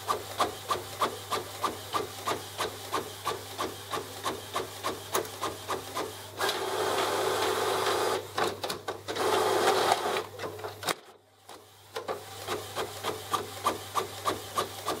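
An Epson WF-7720 printer fitted with a continuous ink system runs, its print head shuttling in a fast, regular mechanical rhythm with a louder whirring stretch midway and a brief pause before the clatter resumes.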